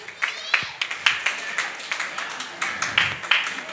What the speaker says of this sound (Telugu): అది అందరూ చప్పట్లు కొడదామండి.